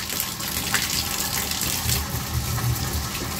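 Water gushes steadily from a bath-filler mixer tap during a faucet and shower-diverter repair, a continuous close, loud rushing stream with no talking.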